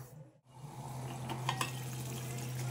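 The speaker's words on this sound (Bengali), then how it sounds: "দেখো কত সুন্দর ফুটছে, একবার একটু এইভাবে নাড়িয়ে দেবে।" A puti fish bati chorchori simmers on low heat in a covered pan, with a soft continuous bubbling hiss and a couple of faint clinks of a stirring utensil.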